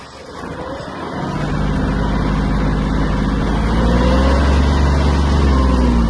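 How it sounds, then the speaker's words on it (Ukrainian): A Kubota GL-320 mini tractor engine idles and then revs up, holding a loud, steady drone with a low throbbing rumble as the tractor turns in place. "Зараз у нас включений оберт на місці. Викручуємо колеса, трактор розвертається на тіло."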